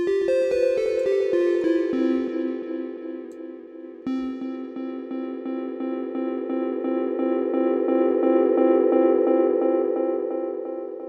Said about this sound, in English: GSI's GS201 Mark II